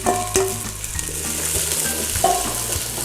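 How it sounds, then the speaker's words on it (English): Onions sizzling and frying in a hot pan with garlic, stirred now and then with clear utensil scrapes against the pan over a steady close sizzle. "Get our onions in."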